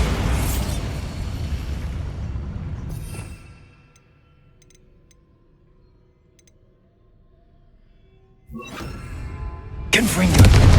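A Bombarda blasting spell detonates in Hogwarts Legacy, a loud broadband boom that fades to near silence before a second burst of rumbling blasts and debris erupts near the end.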